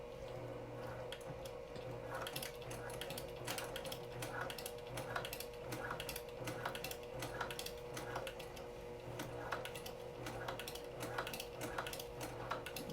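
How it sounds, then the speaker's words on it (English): A sewing machine fitted with a walking foot stitches an apron slowly, producing a steady mechanical whir with regular rhythmic clicks of the needle, close and alone without voices. "I'm going to start sewing."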